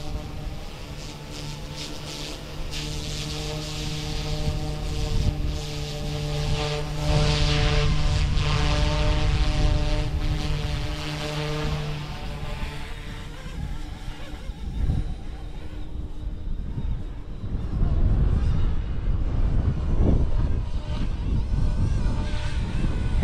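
A small Flite Wing 200 RC helicopter, run on a larger battery, flies over a backyard on a windy day. Its steady rotor and motor whine holds for a while, then thins out as rough gusts of wind take over.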